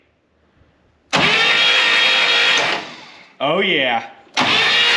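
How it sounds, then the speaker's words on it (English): The engine of a fire-damaged Buick Electra 225 cranks loudly in two sustained bursts, and a brief exclamation from a voice comes between them. "Starter sounds great."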